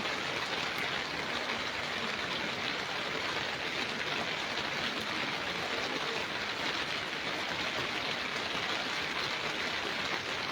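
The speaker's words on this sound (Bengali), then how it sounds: "বৃষ্টি হইতেছে শব্দ পাইতেছেন আপনারা" Continuous heavy rain pours down in a steady, even hiss, uninterrupted and fairly loud, with no voices present.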